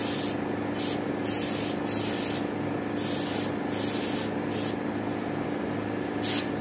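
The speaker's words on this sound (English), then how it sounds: "it's an airbrush. An airbrush only blows one way" A handheld airbrush sprays paint onto a turkey head for taxidermy, giving a steady close hiss that runs continuously through the clip, with brief gaps in its high, airy sheen.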